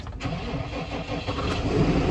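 A farm tractor engine cranks and catches, settling into a loud, close, rough idle that rumbles continuously with a slight build in intensity.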